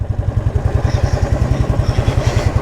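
A modified Royal Enfield Classic 350 motorcycle riding close by, its single-cylinder engine thumping in a fast, even rhythm with loud low-pitched pulses and some mechanical clatter.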